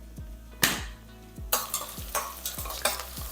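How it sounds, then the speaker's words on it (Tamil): Onions sauté in a pan with a steady sizzle, and repeated sharp spatula scrapes and stirring knocks come close and fairly loud. "பாருங்கள் இந்த வெங்காயம் நல்லா வதங்கிட்டு இருக்கு"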